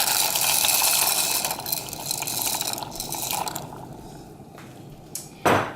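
Dry macaroni rattling and pouring into a pot of boiling water, a rushing hiss that fades, ending with a short clatter.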